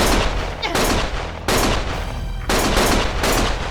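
Loud bursts of gunshots come in heavy, sustained volleys that restart in sharp waves about every second, filling the whole stretch with close automatic fire.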